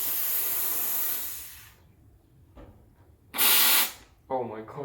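A Breville espresso machine's steam wand hisses loudly as it steams milk, a broad continuous rush that cuts off, followed by a short sharp purge burst and then talking.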